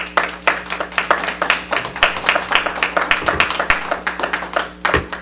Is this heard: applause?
yes